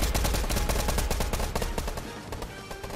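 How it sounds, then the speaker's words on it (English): Rapid gunfire from the video game Fortnite rattles in a dense, continuous burst of closely spaced shots, loud and with no voices over it. "I heard some gunshots."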